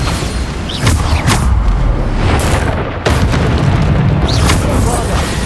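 Repeated Bombarda explosion spells in Hogwarts Legacy, several heavy booming blasts bursting over a dense, loud battle din with a brief drop near the middle.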